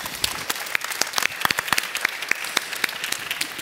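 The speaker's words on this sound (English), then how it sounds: "Huge round of applause, please," Applause greets Greg after his property pitch at a live event, with steady crowd clapping and sharp individual claps standing out throughout.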